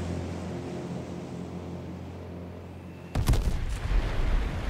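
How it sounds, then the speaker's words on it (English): Airstrike explosions in the video game H1Z1 break out after a steady low rumbling drone, with a sharp blast followed by rolling booms and crackling impacts, loud and sustained. "There's another airstrike, so I'm not running yet."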